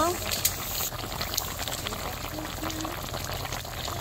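Fried rui fish pieces slipped one by one into a thin simmering curry of taro leaves, the bubbling liquid churning and spitting steadily at close range. A voice talks over the cooking.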